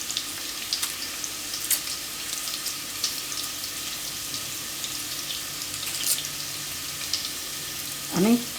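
Peeled onions washed under a running kitchen tap, a steady hiss of flowing water with faint clatters, ending in a brief louder splash and knock.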